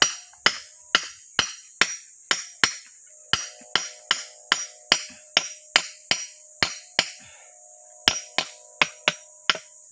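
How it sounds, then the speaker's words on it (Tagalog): Sharp metal-on-stone strikes from a hammer and steel bar digging into rock, about twenty close, loud blows in a fairly steady rhythm with brief pauses, each ringing briefly. "Ang gamit natin martilyo na lang. Saka itong bakal."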